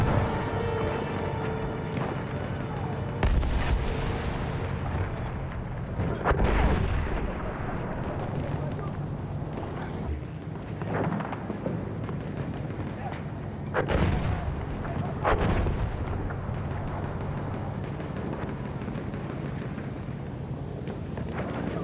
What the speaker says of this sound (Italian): C'è dell'artiglieria nemica!